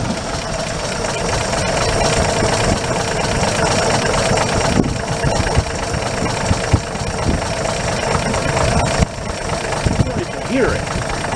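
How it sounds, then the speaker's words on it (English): A car engine idles steadily and fairly loud and close, with the cooling fan spinning, producing a continuous mechanical hum with slight ticking, heard after intake and exhaust manifold work, under occasional talk. "You guys can watch the cooling fan spin. This engine's quiet now."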